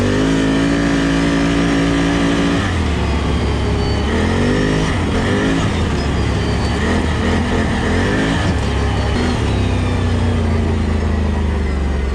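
A 32-inch Traxxas-style Aztex XL RC boat runs at speed, its electric motor whining loudly and shifting in pitch as it lifts and carves across the water, with continuous spray and hull noise.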